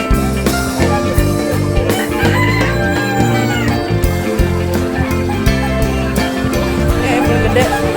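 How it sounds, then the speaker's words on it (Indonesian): A Brahma rooster crows at a livestock expo over dense, loud background music, the call rising clearly above the steady beat. "Ayam Brahma ini ayam hias, bulunya lebat, tubuh besar berotot."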